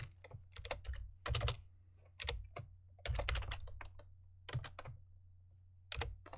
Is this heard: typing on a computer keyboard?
yes